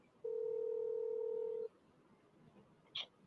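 A steady telephone tone sounds on a radio call-in line, one continuous beep lasting about a second and a half and then cutting off, followed by a quiet line and a short high electronic blip.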